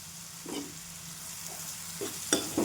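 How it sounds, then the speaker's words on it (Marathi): Ridge gourd stir-fried with grated coconut in a pan, stirred in a few brief scraping bursts over a faint steady sizzle, close and fairly quiet. "हे पण छान परतून घेऊया."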